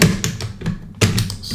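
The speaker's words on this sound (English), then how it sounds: "remember, gotta line the bolt, put it right here, drop it right there to the end" A JTS shotgun bolt is lined up and dropped into place during reassembly, giving a few close, sharp metallic taps and clacks, with the loudest clack near the end.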